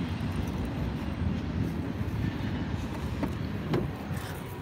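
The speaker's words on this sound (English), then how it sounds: "this train is making all this noise" A passing train makes a continuous low rumbling roar with a broad, noisy wash that stays fairly steady and close, with no speech over it.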